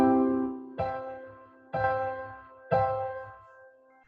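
A piano played with both hands around middle C: a held low tone, then three chords struck about a second apart, each ringing out and fading before the next, close and clear with no talking.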